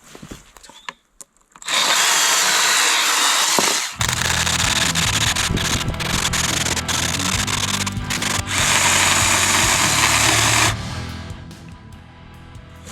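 A Milwaukee 12V compact electric chainsaw cuts wood, a loud continuous motor whine and chain rasp that holds steady for several seconds, dips briefly, then bogs and rises again before winding down; no talking.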